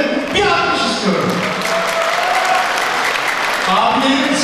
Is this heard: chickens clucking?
no